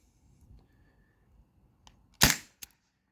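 A single sharp crack from a modded T4E TR50 CO2 pistol running on an 8-gram cartridge, preceded by faint handling clicks and followed by a brief smaller snap, in an otherwise quiet outdoor setting.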